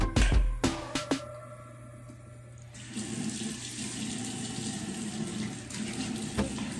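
Water runs steadily from a bathroom tap into a sink during beard washing, with a few knocks and splashes at first before settling into a continuous, close rush.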